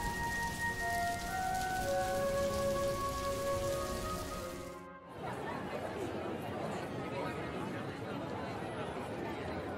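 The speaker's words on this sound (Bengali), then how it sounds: "বৃষ্টির মধ্যে যাসনি রে এভাবে, বাইরে বাজ পড়ছে তো।" Steady rain falls in a cartoon scene, a dense hiss that follows a short stretch of voices with a tonal hum, continuing alone and fairly close; no distinct thunder crack stands out.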